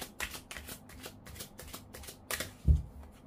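Tarot cards shuffled by hand for a reading, a steady run of quick riffling flutters and soft slaps at close range, fairly quiet, with no talking over them.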